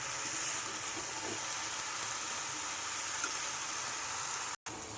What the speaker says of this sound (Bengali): এবারে ভাজা মশলাগুলোর মধ্যে আগে থেকে কেটে রাখা আলু ও ঝিঙেগুলো দিয়ে দিচ্ছি।